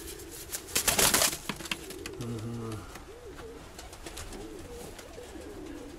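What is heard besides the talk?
young pigeons cooing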